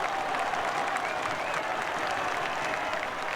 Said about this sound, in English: The crowd delighted with that goal,